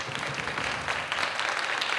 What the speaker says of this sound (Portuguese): farta salva de palmas, por gentileza,